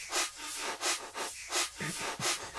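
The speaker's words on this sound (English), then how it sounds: "the reverb I'm adding in just sounds like this on its own" Soloed short, tight reverb tail on a drum and bass beat, faint airy washes pulsing in rhythm with the hits, each decaying quickly, quiet and thin without the dry drums.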